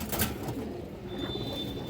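Uri and Shiraz pigeons coo softly nearby in a brief low murmur, with faint rustling around them.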